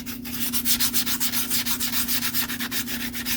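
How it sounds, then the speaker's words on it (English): A plastic holster surface is lightly scuffed with abrasive in steady, rhythmic back-and-forth strokes, close and clear, with a constant low hum underneath and no talking. "we're going to lightly scuff that"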